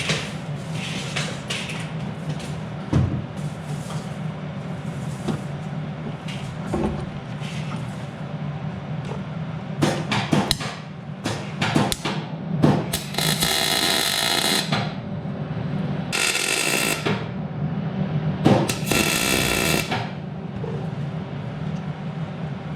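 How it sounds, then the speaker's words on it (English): Stack welding on parts for an Audi Quattro VR6 engine swap in a garage, with bursts of crackling arc noise, several longer runs in the second half, over a steady low background hum. "let's stack weld it."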